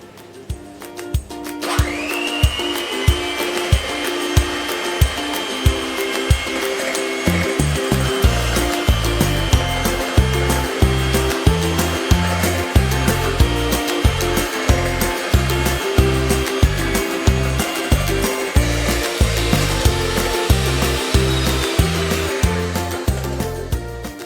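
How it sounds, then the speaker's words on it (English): An electric hand mixer whisks a sugar mixture for chocolate lava cake toward the ribbon stage, a loud continuous motor whine starting after a brief pause, with a regular rhythmic knocking of beaters against the bowl throughout. "we are going to mix this with an electric hand mixer until it gets to the ribbon stage"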